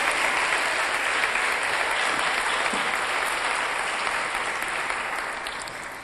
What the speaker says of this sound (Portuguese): Vamos dar um aplauso a este Deus.